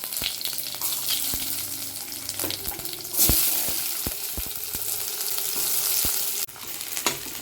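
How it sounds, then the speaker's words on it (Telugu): Garlic, mustard seeds and cumin fry in hot oil with a close, continuous sizzle punctuated by sharp popping crackles of seeds bursting, rising briefly louder midway. "కొంచెం ఫ్రై చేసుకోవాలి."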